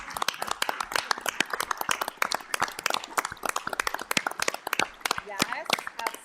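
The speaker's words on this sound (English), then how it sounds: "we give them a round of applause real quick" Dense, steady applause from an audience honoring award recipients at a board meeting, many hands clapping in a continuous crowd wash with a few sharper claps standing out.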